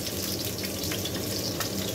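Garlic sautéing in a pan for spaghetti gives a steady, close sizzle and crackle of frying that carries evenly throughout, with no voices.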